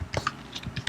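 Computer keyboard typing HTML code, a quick burst of close, crisp key clicks in an uneven rhythm with no talk over it.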